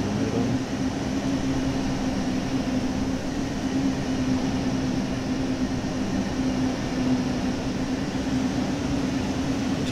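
A Railjet train in Train Sim World 4 pulls out of Munich at 40 km/h, giving a steady, even cab rumble with a constant low electric hum and no speech.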